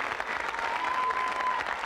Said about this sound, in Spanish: Aplauso a telón abierto.